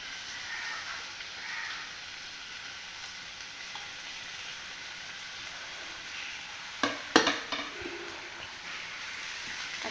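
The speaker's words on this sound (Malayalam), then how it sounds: "പച്ചമുളക് ഇട്ടൊന്ന് ഇളക്കാം" Onions and green chillies sizzle steadily in a frying pan, with a short burst of spoon-scraping stirring clatter toward the end, close and clear without talk.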